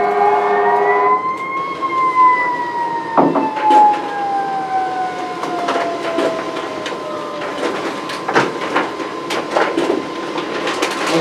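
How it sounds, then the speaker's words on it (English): Emergency vehicle sirens wail past, their pitch sliding downward as they move away, with intermittent clatter and background noise throughout. "Wait just a moment for the sirens to pass."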